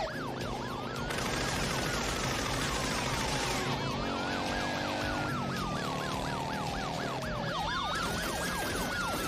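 A police patrol car siren wails during a film chase scene, loud and continuous, its rising and falling sweeps shifting into rapid yelps and back again over rumbling traffic.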